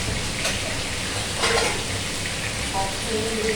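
Dried red chillies and bay leaves fry in hot oil, a steady close sizzle and crackle throughout, with faint clinks of stirring now and then.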